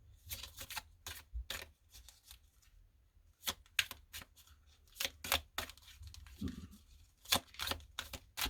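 Tarot cards being shuffled by hand in quick, crisp bursts of riffling flicks, separated by short pauses, close and clear with no talking.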